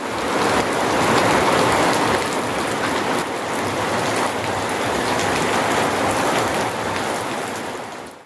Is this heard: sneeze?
no